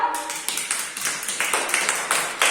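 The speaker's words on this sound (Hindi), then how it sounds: "तालियां बजाओ" Children in a primary classroom clap their hands together in a steady, rhythmic beat, a dozen or so crisp claps close by, with faint voices underneath.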